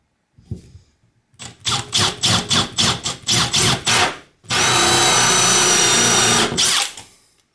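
Bosch hole saw on a drill cutting through wood: a run of short, loud bursts as the trigger is pulsed, then one long sustained grinding cut, close by and without speech.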